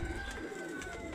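Young racing pigeon gives a soft, close coo in a single short burst, fairly quiet, with no voices around it.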